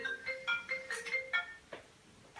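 A mobile phone rings indoors with a bright electronic melody of repeated tonal beeps, several short phrases in a row, fairly close and clear with no talking over it.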